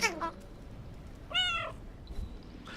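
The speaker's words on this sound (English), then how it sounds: "I just love that I can make a meow whenever I want" A cartoonish cat meow from a video game sounds twice, one short call at the start and a clearer, longer meow in the middle, over a low background murmur.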